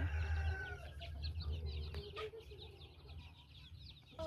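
Chickens cluck and chatter at a small farm, soft repeated clucks and calls over a low rumbling background, with a louder hum in the first two seconds.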